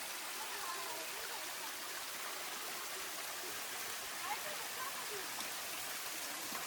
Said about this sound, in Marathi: थोडा थोडा पाऊस चालू झालेला आहे